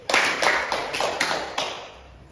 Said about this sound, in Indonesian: beri tepuk tangan untuk Ibu Sudi